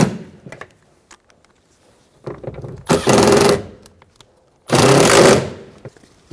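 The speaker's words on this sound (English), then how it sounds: "Install the Phillips head screws." Powered screwdriver driving Phillips head screws into door trim on a 2005-2015 Toyota Tacoma, two loud whirring bursts of about a second each, close by, with faint clicks and handling noise between them.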